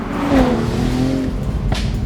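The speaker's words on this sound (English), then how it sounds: "One of the better B58 exhausts I think I've heard." A 2025 BMW Z4 M40i's B58 engine revs close by, a throaty exhaust rising and settling with a brief higher-pitched note, loud and continuous.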